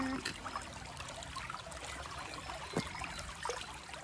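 Small stream of clear water trickling at a water source along a hiking trail, a steady soft dribble with faint splashes, heard alone at close range.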